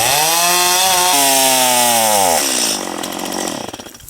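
Old Husqvarna chainsaw cutting through wood, loud and close, its engine whine holding steady then dropping in pitch as it bogs into the cut before tailing off near the end.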